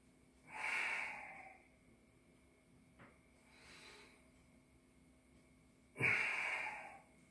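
Heavy, forceful breaths during a floor exercise workout: two loud bursts of exhaled air a few seconds apart, with a softer breath between them, close and alone with no talking.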